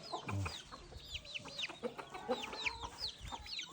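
Buff Orpington hen and her young chicks clucking and peeping close by, a steady run of soft clucks and high chick cheeps with no talking.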